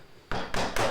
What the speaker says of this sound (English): I'm just chiseling out every slot.